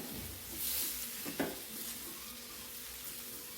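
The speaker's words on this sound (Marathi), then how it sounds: "वांग आणि बटाटा कापून घेतलेला ते ह्याच्यामध्ये सोडून द्यायचं आहे आणि हे पण आपल्याला तेलावर छान परतून घ्यायचे बघा" Eggplant and potato pieces sauté in hot oil with spices, a steady low sizzle broken by a brief stir or clink of a utensil against the pan partway through.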